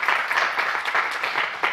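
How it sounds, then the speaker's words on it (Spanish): An audience at a tech conference in Madrid claps briefly, a short burst of steady applause from a seated crowd. "dale un aplauso"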